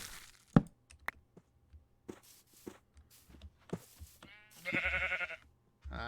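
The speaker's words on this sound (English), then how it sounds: "Ah, sheepy sheep." A blocky Minecraft sheep gives one wavering bleat after a run of light, scattered footstep clicks, close and fairly clear.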